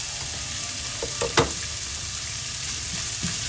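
Chilies frying in a pan with onions for a Filipino jackfruit dish, a constant bright sizzle with a few soft scrapes of stirring near the middle.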